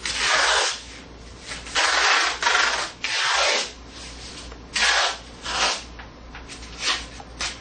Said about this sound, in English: The first step is to masking tape over the seam.